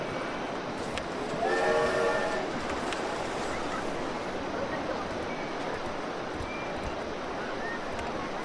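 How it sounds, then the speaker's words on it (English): A train rumbles on in the OpenRCT2 theme park game, giving a steady mechanical clatter with a brief whistle-like blast early on, while a voice talks over it. "be prepared to hear that train a lot"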